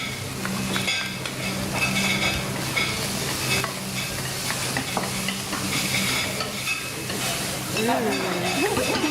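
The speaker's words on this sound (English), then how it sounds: "So just before the pork totally cooked, you can add the chili and the basil." Pork stir-frying with chili and basil in a hot pan at a Bangkok cooking class, a steady close sizzle and hiss with scraping and clinks of stirring, while people talk over it.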